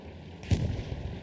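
A 76 mm tank gun firing at infantry in Hell Let Loose, heard as a single distant boom with a short rumbling tail, fairly faint against low background noise.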